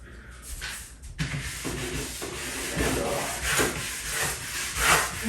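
A brush scrubs mold off a surface in uneven rasping strokes, close and moderately loud, with scraping bursts that rise and fall over several seconds.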